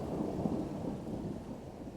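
A thunderstorm with heavy rain rumbles steadily, a low continuous roar of thunder and dense rainfall, with no voices.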